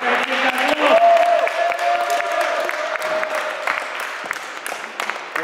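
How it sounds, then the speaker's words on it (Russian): An audience at a scooter tournament in Moscow claps steadily, a dense patter of many hands that peaks early and slowly thins out, with a voice and tonal sound carrying over it. "Аплодисменты"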